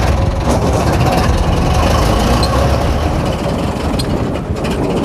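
A restored vintage car's engine runs loudly and up close as it drives off, a rough, steady mechanical rumble with rattling and wind noise throughout.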